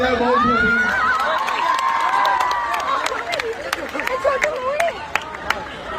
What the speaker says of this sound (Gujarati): તો જોરદાર તાળીઓ થઈ જાય લાલોના 100 કરોડ માટે.